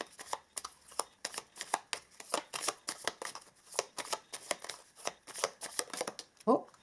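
Oracle cards from the Whispering Woods deck are shuffled in repeated quick riffling bursts that tap steadily at close range, under and between a voice talking.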